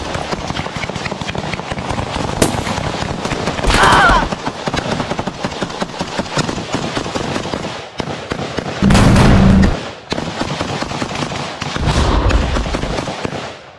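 Gunfire from a sniper in a Lego war animation of the battle for Kherson, heard as several loud bursts of sharp cracks and rattling blasts cutting through continuous background clatter.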